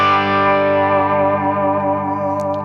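Electric guitar played through a 3 Monkeys amplifier on its clean setting: a single sustained chord rings out evenly and slowly decays, alone with no talk.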